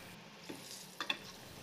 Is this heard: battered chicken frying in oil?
yes